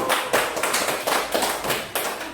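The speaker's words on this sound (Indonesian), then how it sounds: "Mari kita tepuk tangan untuk kelompok 1." Classroom students clapping for a discussion group after its presentation, a close, uneven patter of hands in bursts across a couple of seconds.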